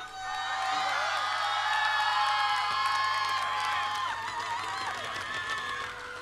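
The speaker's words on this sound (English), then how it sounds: "I reckon you should give them a massive, massive, massive cheer." A crowd at a live Battle of the Bands show at Venue Cymru, Llandudno, cheering and whooping for a band, with sustained loud shouts and high whistles rising and fading across the room.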